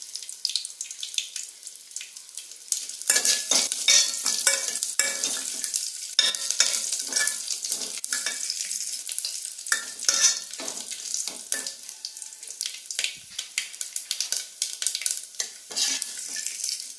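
Food fries in a pan with a crisp, continuous sizzle, broken up by frequent scraping and clattering stirs. It sounds close, with no talking over it.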